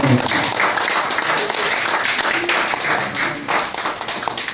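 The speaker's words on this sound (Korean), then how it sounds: "뜨거운 박수 감사드립니다" Crowd applause at a football club's officer inauguration ceremony, steady clapping that fills the whole stretch at moderate loudness, with some voices mixed in.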